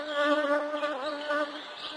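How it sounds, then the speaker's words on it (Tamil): Cartoon bees give a steady, close, high buzzing drone that wavers slightly in pitch, heard alone without talk. "புதிய தேன் இருக்கிற இடத்த எல்லாருக்கும் தெரிவிக்கிறதுக்கு தேனீக்கள் செய்யும் அறிவிப்பு முழக்கம்"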